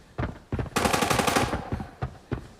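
Rapid bursts of Arena Breakout gunfire, a long automatic volley between short single shots, loud and close.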